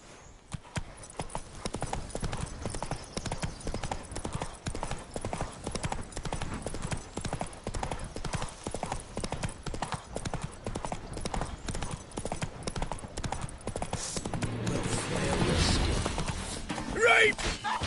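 Roach the horse gallops in The Witcher 3, a fast, steady clip-clop of hooves that builds toward the end and ends with a brief whinny.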